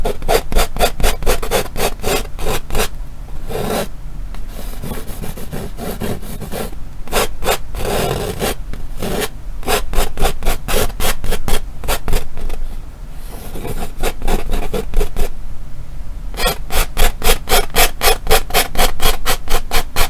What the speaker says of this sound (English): So just scrape that out, just like the other one.